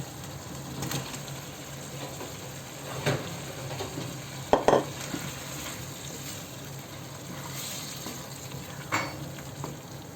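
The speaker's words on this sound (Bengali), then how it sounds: "এখন আমি ভেজে রাখা ডিম এবং আলুগুলো দিয়ে দেব" Fried eggs and potatoes drop into cooked-down masala in a pan, giving a steady low sizzle with a few brief clatters and stirring knocks around the middle and end, with no talking.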